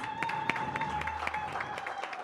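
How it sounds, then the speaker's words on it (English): Scattered applause from a modest audience at an infrastructure cooperation agreement signing ceremony, steady but thin clapping spread across the room with a faint tone humming underneath. "Let's give them a round of applause."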